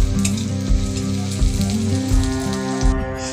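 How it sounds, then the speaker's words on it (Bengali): Onions frying in a pan for a fish curry, a dense continuous sizzle heard up close, with a low steady tonal hum running underneath throughout. "পেঁয়াজ ভাজা ভাজা হয়ে গেছে,"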